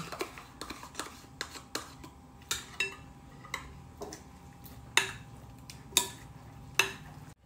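A spoon scrapes leftover food from a pot in a home kitchen, a string of sharp metallic clinks and scrapes at an irregular pace, close and clear, with no talk over it.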